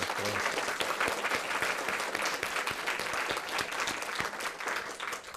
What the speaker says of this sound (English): So let's give Vicky a round of applause.